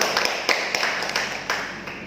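Students clap together in a classroom after a presentation, a scattered round of applause with several sharper claps standing out, moderately loud and with no one speaking over it.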